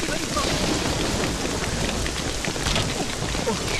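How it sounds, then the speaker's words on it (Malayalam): Heavy rain pours down in a dense, steady roar, loud and close, with no pause throughout. "എന്തൊരു മഴയായിരുന്നു"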